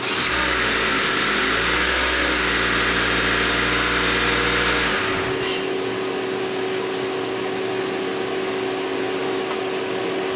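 A Honda Accord (2013–2017) engine, freshly swapped, runs loud and steady with a rough, revving idle for about five seconds, then drops to a quieter, even idle with a low hum for the rest.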